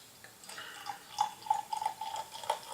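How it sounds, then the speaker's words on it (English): Cantillon Cuvée Saint-Gilloise lambic, a sparkling beer, poured into a tiny flute glass, giving faint liquid splashes and a sequence of small bright clinks and fizzy drips over about three seconds, with no talking. "let's pour out a little glass of this, if I can, into this tiny little flute"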